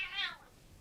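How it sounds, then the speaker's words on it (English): A pet cat gives a single short, faint meow indoors, rising then fading within a second. "No, now she's meowing."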